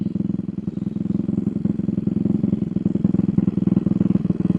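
An RPS Racer Nibbi PE26 motorcycle engine idles close by with a rapid, uneven putter and clattery mechanical ticking, steady throughout; its carburetor may be running lean.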